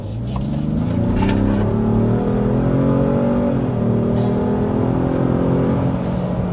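A 2025 Ram 1500 Tungsten pickup with a 3-liter twin-turbo inline-six hybrid powertrain making 540 horsepower accelerates hard to 60. A loud, steady engine drone climbs in pitch throughout, heard close with no talking.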